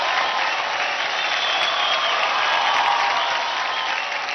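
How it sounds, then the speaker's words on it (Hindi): Studio audience at a televised dance competition show applauding, a steady, dense wash of clapping and crowd noise throughout. "एक बार जोरदार तालियां"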